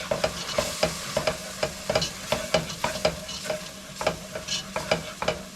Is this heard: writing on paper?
no